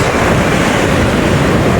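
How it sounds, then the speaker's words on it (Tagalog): A strong river current rushes with loud, steady water roar without a break, a dense broadband wash close to the microphone. "Aba, lakas ng agos sa ilog,"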